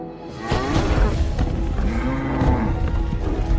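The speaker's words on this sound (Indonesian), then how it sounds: "Beruntung, suara riuh banteng di sisi lain menyelamatkan Ferdinand" Herd of bulls in a film bellows and moos noisily, several deep overlapping calls close by, with rough rumbling underneath.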